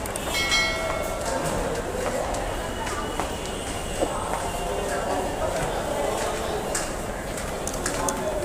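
A Dhaka metro rail train pulls in at a station, a steady wash of rumble and hiss with faint chimes and platform bustle, people talking at a distance.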